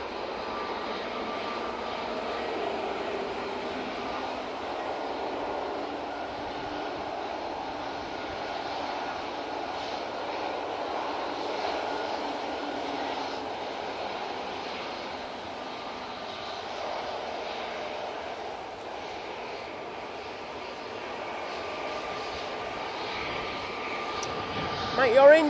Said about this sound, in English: And this Max 8 is off to Bratislava.